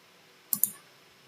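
Two quick mouse clicks, close together and crisp, against a quiet room background while selecting options in civil grading design software.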